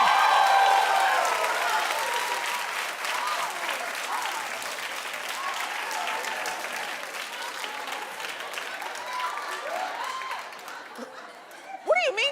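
Studio audience at a daytime talk show applauding, loud at first then gradually thinning, with scattered chuckles and murmuring, and a voice cutting in near the end as the clapping fades.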